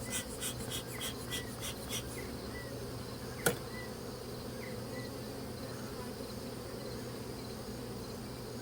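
Honey bees buzz in a steady, soft drone around a brood frame during a single-box hive inspection for varroa mites, with a few faint ticking taps early on and one brief click.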